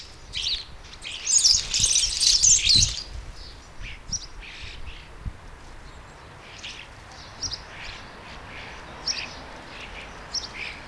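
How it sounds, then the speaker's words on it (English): Sparrows that have been eating canary seed chirp and tweet, with a loud burst of song near the start followed by sparse, fainter calls over quiet outdoor background. "now the sparrows have got a song for us because they have been eating the canary seeds"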